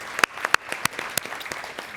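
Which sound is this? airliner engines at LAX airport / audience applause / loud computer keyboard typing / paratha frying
audience applause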